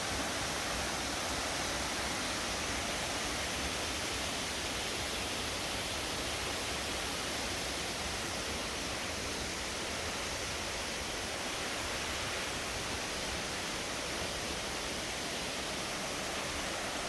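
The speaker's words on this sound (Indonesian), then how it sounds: "Ini lubang air terjun ya." Waterfall at Springbrook Natural Bridge, Gold Coast, Australia, pouring into a rock hole, a steady broadband roar of rushing water that holds evenly throughout, heard alone with no voices.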